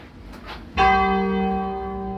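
A church bell in Bresso, near Milan, rung by hand in a solemn concert: after a quiet start, one loud, close strike sounds and its bright, tonal ring hangs on, decaying slowly.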